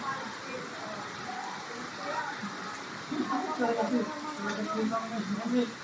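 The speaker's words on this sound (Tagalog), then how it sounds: "dito malakas ang ulan sa Alfonso" Heavy rain falls steadily in Alfonso, Cavite, near Tagaytay, a broad continuous hiss with people talking over it partway through.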